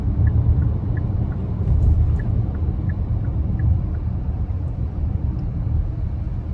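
Cabin of a 2023 Hyundai Palisade Limited with the 3.8 V6 on the move: a steady, low engine and road rumble fills the interior evenly, with no voices.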